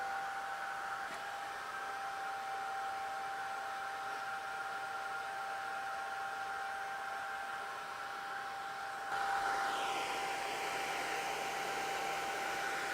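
A hair dryer blows steadily, a near, continuous airy roar as it dries weathering on a Broadway Limited NYC J-1e Hudson model steam locomotive, briefly getting louder and harsher toward the end.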